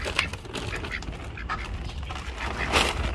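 Ducks being bred in Africa quack in short bursts close by, several calls scattered over a few seconds amid outdoor background noise, no talking.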